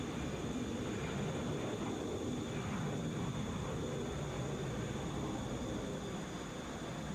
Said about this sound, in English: Taking off, Delta 774 to Seattle in a, here you go, Boeing 757.